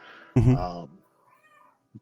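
A cat lets out one clear, drawn-out meow, close and fairly loud, followed by near silence with only a brief faint bump afterward.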